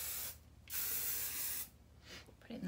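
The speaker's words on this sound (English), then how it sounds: "And then spray," Two loud, close bursts of hairspray misted onto curled hair extensions, a long hiss followed by a shorter one, with a fainter spritz at the end.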